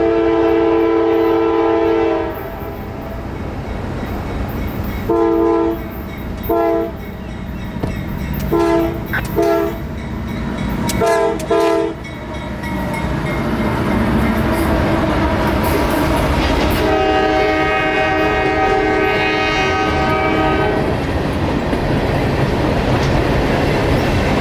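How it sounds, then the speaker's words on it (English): A freight train of empty phosphate hoppers from the Canadian Pacific rolls past near Lakeland, Florida. Its horn sounds in several short, loud blasts and then a long sustained one over a steady rumble of wheels and cars. "another unit train of empty phosphate hoppers off of the Class 1 Railroad Canadian Pacific"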